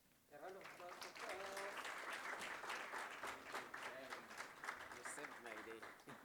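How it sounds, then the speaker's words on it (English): A crowd applauds a speaker at the welcome and keynote session of a conference, with steady sustained clapping filling the room and some voices and cheers mixed in throughout. "A round of applause for"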